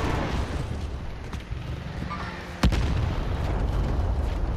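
A single sharp, loud gunshot-like bang from gunfire in Call of Duty: Modern Warfare cracks out midway, surrounded by a few faint distant pops and steady background game noise, with no talking.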